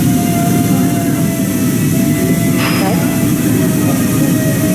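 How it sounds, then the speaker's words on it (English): A reel spins steadily while its shifter is checked for grinding, giving a continuous close mechanical whir with a faint steady tone and a brief higher scrape partway through. "to make your reel spin. Make sure it's not grinding."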